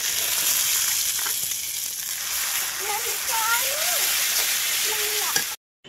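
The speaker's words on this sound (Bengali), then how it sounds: "তেলের মধ্যে দিয়ে দিলাম কিছু পেঁয়াজ কুচি।" Chopped onion and coconut sizzle steadily in hot oil in a wok, a close, continuous frying hiss with stirring scrapes and faint voices nearby.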